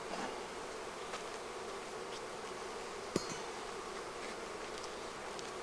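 Honey bees buzzing at the hive, a dense, continuous hum filling the air with no pauses, steady and moderately loud, marked by one sharp click partway through.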